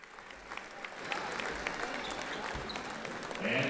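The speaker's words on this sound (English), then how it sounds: "Mundelein will get a nice round of applause here from the Kahawk faithful" A crowd of Collinsville Kahawk fans applauds the Mundelein team at a championship game, steady dense clapping that swells slightly toward the end.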